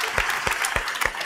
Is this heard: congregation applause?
yes